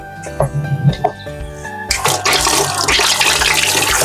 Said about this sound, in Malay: kita bilas dengan air bersih